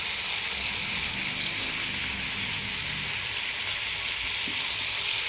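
Chicken sautéed in oil hisses and crackles loudly and continuously at close range, a dense steady sizzle with no voices.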